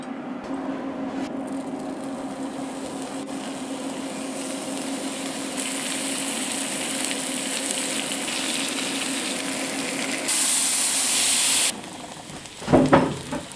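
Home-smoked bacon frying in a pan, a steady low hiss and sizzle with a steam-like rush swelling briefly louder near the end, followed by a few clattering knocks.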